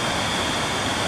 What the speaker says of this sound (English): Creek's down there.